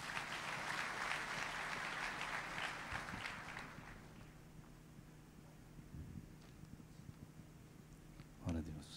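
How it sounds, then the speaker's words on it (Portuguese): Applause in a church service fills the first few seconds as a dense wash of clapping from a congregation, then fades away, leaving quiet room noise and a short thump near the end. "Você pode dar um aplauso para Jesus?"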